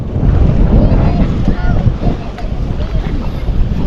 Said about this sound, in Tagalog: that's the ship engine